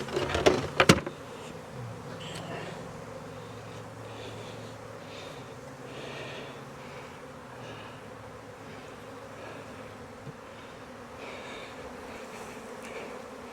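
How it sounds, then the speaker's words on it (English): Honey bees buzz around an open Demaree-style hive during a spring inspection, a dense, steady droning hum of many insects close by, opening with a brief knock and clatter of equipment and no talk. "Go ahead and dump the bees back in."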